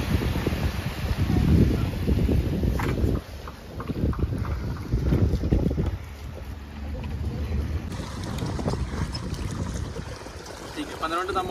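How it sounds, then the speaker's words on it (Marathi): A boat approaching across the water at a Goa sailing spot, a low steady engine and water wash rising and falling under outdoor wind and voices nearby. "आता आपली बोट येतेच आहे, ते मागून दिसते"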